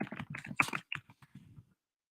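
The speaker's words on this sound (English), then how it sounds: "Takes a couple deep breaths as I type in my message" Someone types a message on a computer keyboard, producing a short burst of quick, soft key taps close by that stops after under two seconds.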